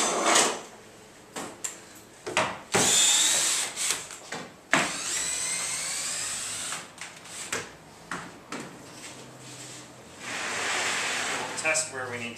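Behind the scenes on a Sweeney Todd stage production, a power drill unscrews screws from a prop in short whirring bursts with rising whines, mixed with clunks and handling knocks, while people talk nearby.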